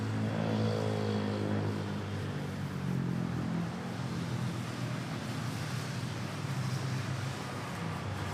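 A Qatar Airways airliner at Manila Airport gives off a loud, steady broadband roar with a low droning hum, holding constant the whole time with no talking.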